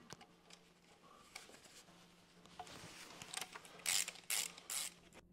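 A ratchet clicks quietly as fasteners come off the protective cover plate of an oil pan during an automatic 4-speed transmission oil change. Rapid pawl ticks and small mechanical clatter build toward a few louder bursts near the end.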